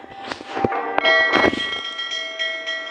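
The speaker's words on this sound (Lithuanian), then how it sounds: "Varpelis." A small bell rings with a few quick strikes, its bright tones lingering and fading in the quiet between.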